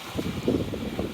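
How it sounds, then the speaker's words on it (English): Gusty wind on the Torquay seafront buffets the microphone with a steady low roar and rumbling bursts, with no talking. "Less wind up here maybe."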